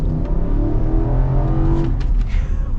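A 2023 Nissan Armada Platinum's 5.6-liter V8 pulls with a deep, close engine rumble that builds steadily, then settles toward the end, with no one speaking.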